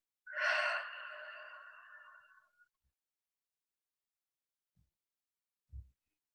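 One slow, audible exhale during a guided breathing meditation, a soft breathy rush that fades over about two seconds, followed by near silence with a couple of faint small bumps.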